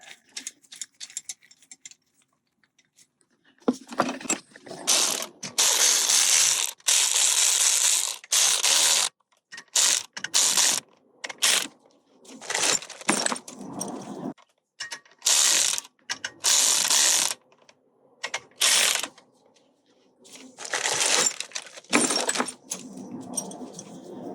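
Nuts are run down on a tool during the teardown of a vintage Honda CL77 engine, heard as bursts of rapid ratchet clicking with short pauses between, close and fairly loud, no talking.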